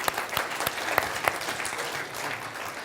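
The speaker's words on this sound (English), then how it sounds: "give him a round of applause." Applause from a crowd, steady clapping with a few sharper claps standing out, fairly close and continuous throughout.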